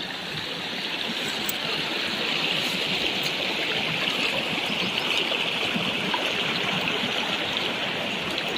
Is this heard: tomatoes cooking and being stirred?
no